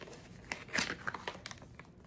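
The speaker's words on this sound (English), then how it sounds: "This has a little seal here, so I'm gonna cut that open." Blind box packaging has its seal cut open with a few quick crinkling, tearing rustles of plastic and card, close by and fairly quiet.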